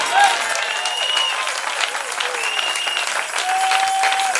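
A church congregation applauds, a dense, sustained wash of clapping filling the space, with voices calling out over it and a preacher's voice briefly rising above the crowd.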